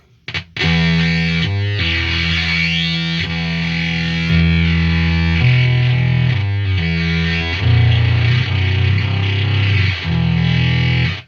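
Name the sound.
effects pedal feedback with heavy bass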